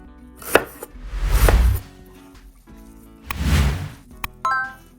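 A knife slices a red onion into rings on a board up close: a few sharp taps and two longer, crunchy cutting strokes.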